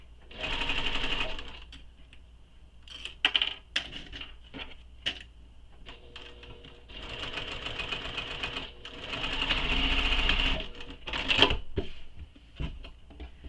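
A sewing machine stitches fabric in several bursts of rapid, close whirring and clatter, separated by quieter handling sounds and brief pauses.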